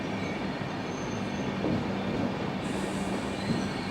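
The Deccan Queen Express stands at Khandala station for its technical halt and brake check before the ghat section, with a low, steady rumble, a faint metallic squeal and no talk.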